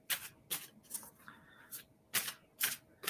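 Tarot cards are drawn one at a time for a reading, giving a series of sharp papery snaps and slides at an irregular rhythm, close and fairly quiet.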